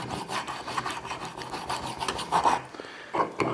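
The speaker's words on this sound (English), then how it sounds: "get that serrated knife, kind of like a bread knife of some sorts, and kind of just start sawing it out" A rough, rhythmic rasping of a serrated knife sawing back and forth through a block of ice, steady strokes up close with no voices.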